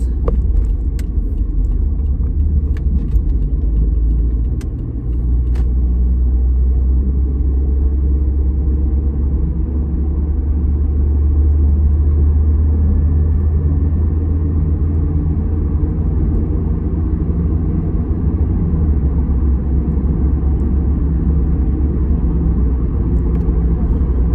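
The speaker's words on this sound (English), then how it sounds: "A big truck just went by me with a bunch of hay" A large truck loaded with hay bales rumbles past, a steady low, heavy roar that holds loud and close throughout, with no talking.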